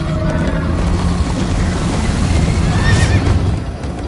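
A horse whinnies in the Minecraft Story Mode video game, a drawn-out neigh over a dense rumbling bed of galloping hooves and game background noise, with no speech.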